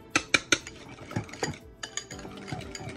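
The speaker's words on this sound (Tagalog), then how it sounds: "Haluin lang maigi." A spoon clinks and scrapes against a bowl while aioli of minced garlic, olive oil, Japanese mayo and salt is stirred. Several sharp taps come early, then softer, uneven mixing noises follow.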